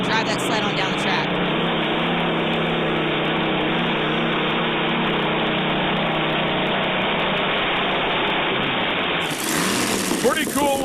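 A super modified pulling tractor on 30.5 tires drags a sled down the track at a tractor and truck pull, its engine a loud, steady, droning roar that holds throughout and then cuts off near the end.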